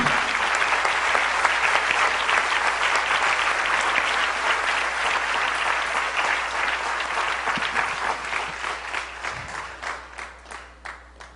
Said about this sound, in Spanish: Dile un aplauso fuerte al Señor.